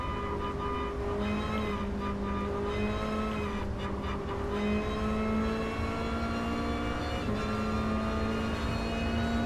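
Mazda Eunos Roadster '89 in GT Sport driven at modest speed, a steady engine drone with a constant pitch and harmonics and small shifts in revs, continuous and fairly loud throughout with no talk.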